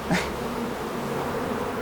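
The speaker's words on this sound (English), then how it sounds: "the bees, they come flying onto me at great speed" A dense swarm of bees flying around, giving a steady loud buzzing drone close up with a brief swelling whoosh at the start, no voices.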